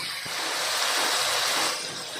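Water poured into a cooking pan of sarsyadong isda, a Filipino fish dish with egg, making a steady broadband splashing wash that swells in the middle and eases off toward the end, with no talking.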